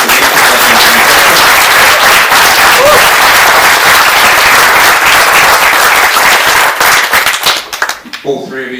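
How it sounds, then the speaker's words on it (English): Loud, dense applause and clapping from a wedding reception crowd for the bridesmaids. It runs steadily for about eight seconds, then breaks up as a voice begins speaking over the fading claps. "can we just have a quick big round of applause for them?"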